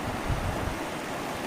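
A river runs beside a bamboo bridge in a cool countryside village, giving a steady, broad rush of flowing water close by with a soft low rumble early on, and no voices.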